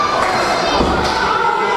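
A close, loud crowd at a UWC Now or Never wrestling main event cheers and shouts in one unbroken roar, with a few dull thumps mixed in.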